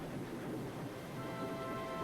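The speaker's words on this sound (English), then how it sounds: "we find ourselves in a rather nasty storm" Rumbling thunderstorm noise in Below Sunshade, a steady roar of wind and rain with low rolling thunder underneath, continuous and fairly quiet, with no voices.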